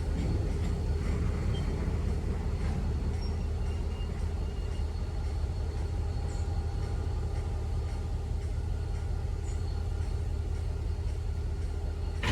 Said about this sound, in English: The train was just pulling through.